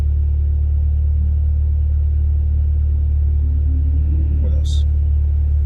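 Low, steady engine rumble inside a Honda Type R while driving, a continuous drone filling the cabin with no talk over it.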